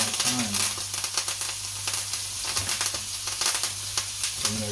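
Garlic and thyme sizzle steadily in hot oil in a pan, a loud, continuous crackling fry with small bursts of spitting, heard up close with no talking.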